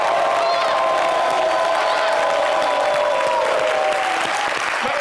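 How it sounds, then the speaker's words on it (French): A studio audience on a TV variety show applauds in a dense, continuous wash of clapping with some cheering, loud and sustained from start to finish. "Applaudissements pour lui."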